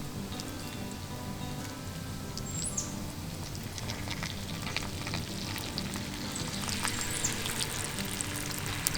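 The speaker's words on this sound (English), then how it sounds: "Here's our scrambled eggs." Scrambled eggs fry in a Lodge Cook-It-All over a mountain campfire, a steady close sizzle and crackle running through the whole stretch with a few brief sharper pops.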